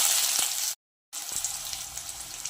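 Curry leaves and onion sizzle in hot oil, a steady hiss of frying with a brief dropout partway through; no voices.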